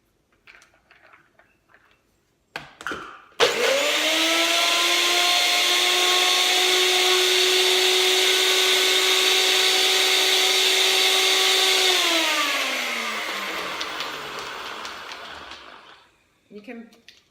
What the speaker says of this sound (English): And just blend that again.